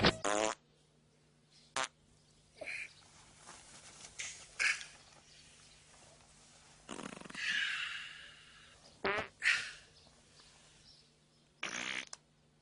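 A few loud, sputtering farts break out at intervals among quieter shuffling noises, close and without talking.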